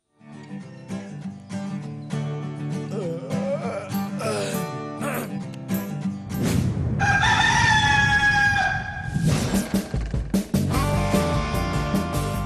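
A cartoon village rooster in an Indonesian animated film about a chicken obsessed with becoming a rocker crows and clucks loudly amid a busy soundtrack of music and effects, with repeated calls rising over the mix.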